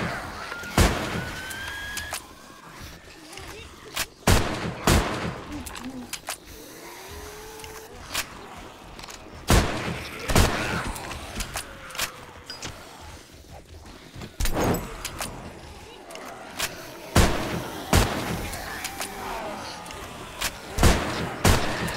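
Sharp, loud gunshots ring out one at a time at irregular intervals during a horde night in the 7 Days to Die Ravenhearst mod, with creature growls and other game noises between shots and a voice occasionally speaking.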